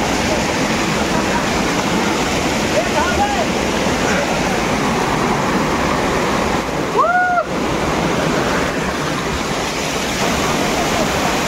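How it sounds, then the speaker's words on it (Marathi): Rushing river water near Shitkada waterfall, a loud, steady broadband roar filling the whole clip, with a voice briefly audible beneath it. "पाण्याचा आवाज खूप येतोय"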